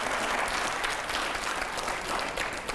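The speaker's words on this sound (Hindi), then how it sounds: "जोरदार तालियां हो।" Loud, dense studio audience applause during a televised Hindi interview, a continuous, even roar of many hands clapping at once with no talk over it.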